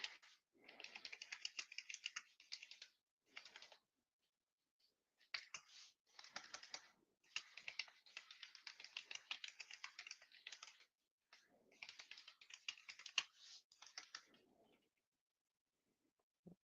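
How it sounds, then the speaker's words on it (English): Typing on a computer keyboard, fast bursts of soft, close clicking with short pauses between runs, alone without talk. "I'm going to type it in here."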